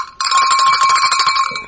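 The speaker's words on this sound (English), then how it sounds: "the cowbell is a little loud" A bell sound effect played on a podcast, a bright, loud, rapidly jangling ring starting abruptly and continuing steadily with shimmering repeated strikes, heard alone without talk.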